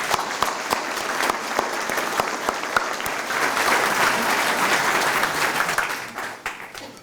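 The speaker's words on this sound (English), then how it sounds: "please give them all another round of applause" An audience at a Veterans Day ceremony applauds honored veterans, sustained crowd clapping with distinct nearby claps that swells and then tapers off.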